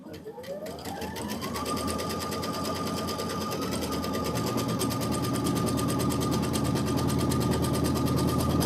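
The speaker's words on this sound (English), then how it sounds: "let's go ahead and stitch the placement line" A sewing machine stitches a placement line, its motor spinning up in the first second to a steady, fast needle chatter that runs continuously and close at an even pitch throughout.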